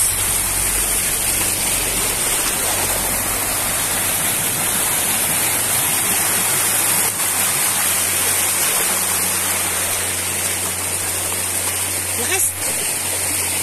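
Banahaw Falls and its smaller mini falls pour with a loud, steady rush of water that stays constant and close for the whole stretch, with no breaks.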